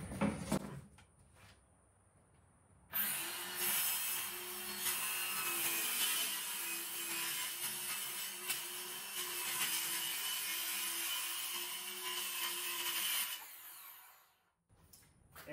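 Wood strips for shaker cabinet doors are cut together in one pass, giving a loud, steady, buzzing saw cut. It runs for about ten seconds, with quiet handling before it and a fade at the end, and no talk.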